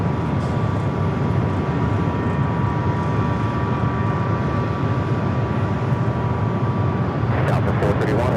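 An Air Canada airliner arriving at LAX roars as a loud, continuous jet engine rumble that holds steady at close range. Faint talk can be heard underneath it.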